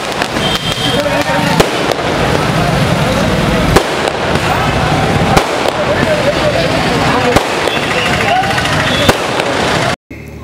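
Celebratory fireworks set off by party volunteers in Tirunelveli crackle and pop in dense, continuous bursts at fairly close range, with a few sharper bangs standing out, before cutting off abruptly near the end.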